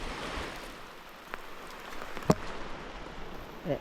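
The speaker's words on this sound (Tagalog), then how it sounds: "Ang lakas ng ulan." Rain falls steadily outdoors in a rural Philippine setting, a soft broadband patter with a few sharp drop or tap sounds standing out, and no talking.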